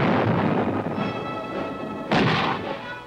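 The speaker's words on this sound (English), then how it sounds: "Artillery." Artillery and airstrike bombardment of a hill during the 1968 Battle of Dak To in Vietnam: a steady, heavy rumble of distant booms, with a sharper, louder blast about two-thirds of the way through.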